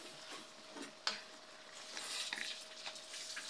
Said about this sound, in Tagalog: At haluin po natin uli.